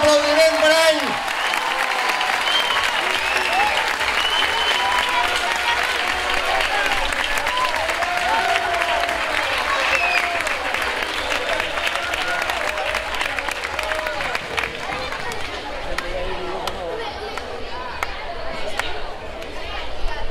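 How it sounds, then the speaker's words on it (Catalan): An audience at a town ceremony applauds the newly proclaimed hereu of Anglès with sustained, dense clapping over a low murmur of crowd chatter, holding strong for the whole stretch before thinning slightly near the end. "Un fort aplaudiment per ell."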